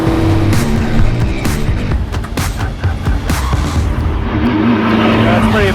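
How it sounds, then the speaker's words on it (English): A 1966 Ford GT40 Le Mans race car driven on the backstretch at Indianapolis Motor Speedway, its engine droning loud and steady throughout with rising and falling revs and a brief tire squeal. "Running a Le Mans car here at the Indianapolis Motor Speedway on the backstretch of Holman Boulevard"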